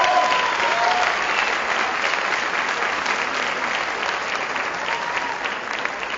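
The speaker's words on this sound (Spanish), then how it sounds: "Recibamos con un aplauso fuerte también a Iván Adel Chipeña Estrada," Sustained audience applause at a presidential debate event, steady dense clapping from a large crowd filling the room throughout, without voices standing out.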